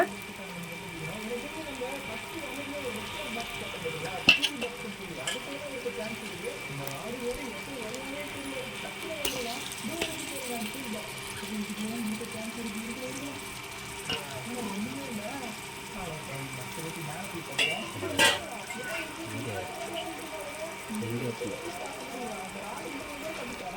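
Chicken is stirred and fried in masala for seeraga samba chicken biryani, giving a soft continuous sizzle with occasional spoon scrapes and clicks while a voice talks over it.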